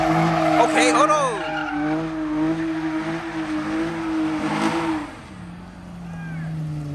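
A Dodge Charger or Challenger Scat Pack slides across an abandoned lot, its engine droning near and loud as the tires squeal and skid for several seconds before easing off; voices are heard around it.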